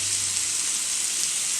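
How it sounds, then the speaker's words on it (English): Soy sauce sizzling in a hot frying pan with a leftover pot roast stir fry, a loud, steady, close hiss that fills the whole moment with no talking. "The last step really is going to be to put some soy sauce in here."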